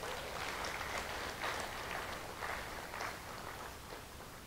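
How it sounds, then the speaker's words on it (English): Round of applause at the Maxi Ball, a moderate, somewhat distant patter of clapping from a gathered audience that swells and eases in uneven waves. "Can I hear a round of applause for that?"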